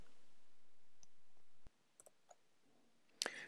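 A single sharp computer mouse click while resetting a password on a login page, followed by a few faint ticks and a louder clicking burst near the end, in a quiet room with a low hum.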